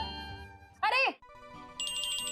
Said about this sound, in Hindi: मैं उठाती हूँ ना फोन।